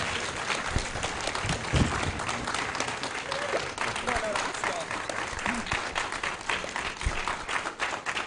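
Continuous applause fills a hall in Ghana after Ambassador Thomas-Greenfield's food security speech, many hands clapping at an even, lively level with crowd murmur beneath.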